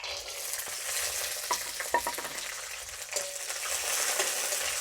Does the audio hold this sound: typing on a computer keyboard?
no